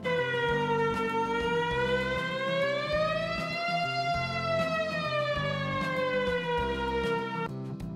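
A fire truck siren wails loud and continuous, its tone sliding slowly up and down in a long sweeping cycle, alone without voices.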